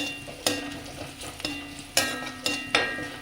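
Turmeric powder frying in a pan with onions and curry leaves, a soft steady sizzle punctuated by several sharp clinks and scrapes of a stirring spoon, close and without talk.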